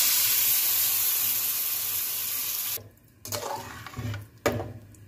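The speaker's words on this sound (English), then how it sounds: "We'll pour some water so it will cook." Water runs steadily into a cooking pot for a chicken badami dish, a loud continuous splashing hiss that cuts off abruptly, followed by a few shorter bursts of pouring.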